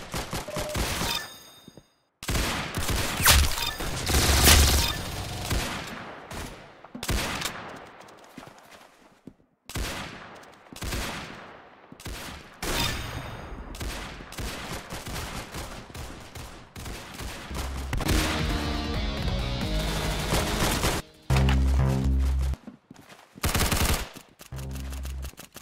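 Rapid bursts of automatic gunfire and single shots from a Roblox shooter game on PC, loud and dense with brief pauses, dropping into rhythmic repeated pops toward the end.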